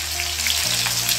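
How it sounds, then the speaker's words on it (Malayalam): Sliced onions sauté in a pan as the start of a masala for bucket grilled chicken. A brief, steady sizzle sounds close by over a low hum. "ചിക്കന്റെ ഉള്ളിലേക്കുള്ള മസാല നമുക്ക് വഴറ്റി എടുക്കാം സബോള ഇട്ടിട്ടുണ്ട്"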